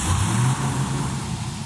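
The twin-turbo Camaro SS engine, bought at auction, runs with a steady low rumble that settles into idle after starting.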